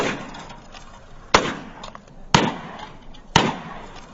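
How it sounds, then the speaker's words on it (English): Three sharp, loud pistol shots about a second apart, fired from the hip at cans, each a sudden crack that fades quickly over a low background hiss. "I'm drawing the gun, shooting, and I'm shooting at different cans, different heights, different angles, different levels"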